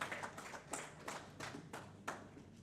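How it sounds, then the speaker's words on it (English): Sparse, quiet clapping from a small audience at a digital transformation business event in Ghana, with a handful of irregular claps rather than full applause. "Well, please, a big round of applause."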